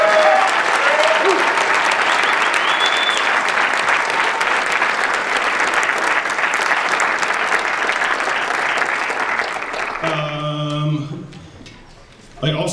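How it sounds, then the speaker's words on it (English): A large school audience applauds a student headed for the Marine Corps, loud sustained clapping that carries for about ten seconds before thinning out, with a brief spoken voice near the end. "So give her a round of applause, please."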